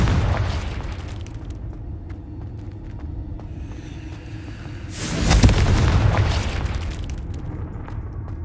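In Hogwarts Legacy, a Confringo spell detonates in a sudden loud boom with a rolling rumble that swells and slowly decays, following a stretch of low game ambience.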